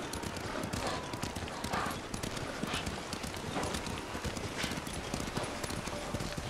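Horse hooves clip-clop steadily in the Ghost of Tsushima video game, a brisk continuous rhythm of close hoof strikes carrying on beneath spoken dialogue throughout.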